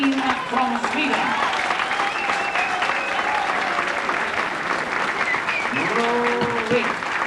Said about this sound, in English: Will you please give a tremendous round of applause to Lennart Green from Sweden.